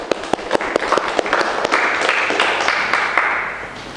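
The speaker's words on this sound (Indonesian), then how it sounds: "tepuk tangan dulu bagi yang sudah menjawab" Applause from a classroom audience during a lesson on electrical systems: a burst of hand claps with sharp, scattered strikes over a steady wash, lasting several seconds before fading.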